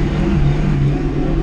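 A VAZ-2106 car engine revs steadily with a droning, wavering pitch as it drives out of snow, loud and close throughout with no talk.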